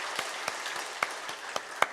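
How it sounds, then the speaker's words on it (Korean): A church congregation at a Friday worship service applauds, a steady bed of clapping with a few sharper, louder claps standing out near the listener at irregular intervals. "우리 감사와 격려의 박수 하겠습니다."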